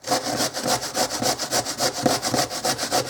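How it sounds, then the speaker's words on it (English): Washed red potatoes are grated by hand on a kitchen counter for hash browns, giving a steady, rhythmic rasping of quick back-and-forth strokes, close and loud with no talk. "all I do is I just grate them up. And I grate them right on my counter."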